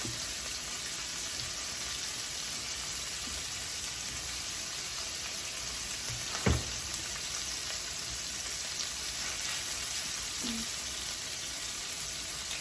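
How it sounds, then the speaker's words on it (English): Meatballs brown in a frying pan with a steady, moderate sizzle, a single sharp knock midway and a few faint stirring sounds. "if you just hit 2 sides with these meatballs, that is sufficient as well"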